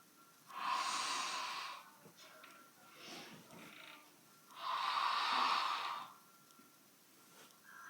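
Two long, breathy exhales with a softer breath between them come from someone working with a fit ball, heard close but quietly with pauses in between.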